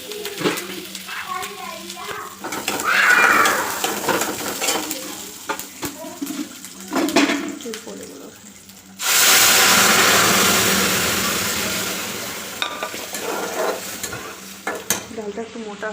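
Cooked mung dal goes into a hot tempering of dry red chilli, cumin and ginger, setting off a sudden loud hiss and sizzle that slowly fades, with spoon stirring and pot clatter before it and a voice talking at times.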